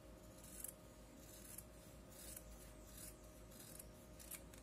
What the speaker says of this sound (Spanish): Lo vamos a doblar entonces y vamos a recortar.